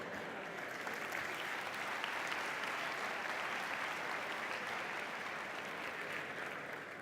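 A large lecture audience on the science of reading breaks into a dense, sustained wash of applause. It stays steady and fairly distant the whole time, then eases off slightly at the end, with no voices over it.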